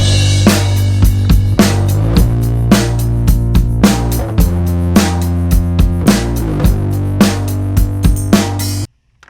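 The bass and drum rhythm section of a rock song, mixed with parallel compression and distortion, plays alone: a heavy sustained bass under steady, punchy drum hits for about nine seconds before stopping abruptly.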